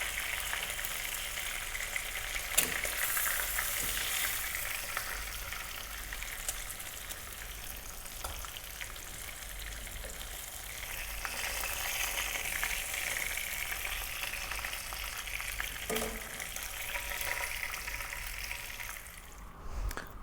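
Pieces of lamb, already browned, fry in hot oil for a curry, giving a steady bright sizzle and crackle with no one talking, plus a brief louder spatter near the end.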